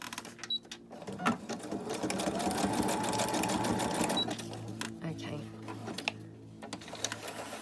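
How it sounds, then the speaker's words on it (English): A sewing machine runs a zigzag stitch in a steady, rapid whirring burst for a few seconds, then stops. A faint voice can be heard around it. "So I'll just get my sewing machine back in and just again reset up that zigzag"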